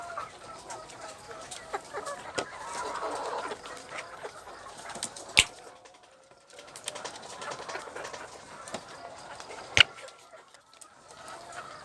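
Young laying hens cluck and murmur in a pen during vaccination against H5N1 bird flu, soft overlapping clucks and coos with a couple of sharp clicks or knocks, fairly close and moderate in level.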